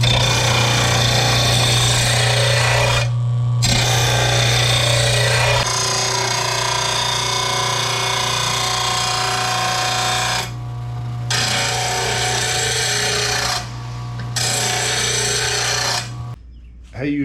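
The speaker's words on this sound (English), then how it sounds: "today I got a brand new blade sharpener, the RBG 712" An RBG 712 blade sharpener grinding lawn mower blades, loud and close: a harsh, steady grinding whine with a constant motor hum, broken by a few short pauses between passes and ending abruptly.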